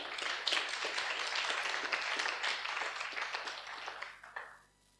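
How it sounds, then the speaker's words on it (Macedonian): A church congregation claps together after a Bible reading, a dense, even burst of applause that holds for about four seconds and then quickly fades to near silence. "Еден аплауз, колку да не биде тишина."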